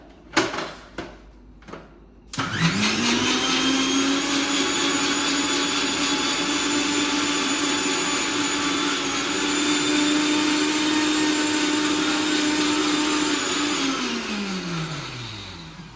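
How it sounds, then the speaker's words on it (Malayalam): An electric mixer grinder whirs loudly and steadily as it blends cold coffee, starting after a few clicks and knocks, running at a constant pitch for about eleven seconds, then winding down at the end. "അടിച്ചൊടിച്ച് ലാസ്റ്റ് മിക്സിയിൽ അടിച്ചു."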